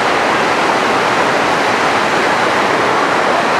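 A flooded Beg Khola river roars along the Beni–Jomsom road in an unbroken, very loud torrent of rushing water heard up close.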